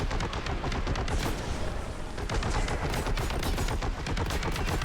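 Heavy guns firing in a video game, dense rapid bursts of loud close gunfire rattling continuously with no pauses and no voices.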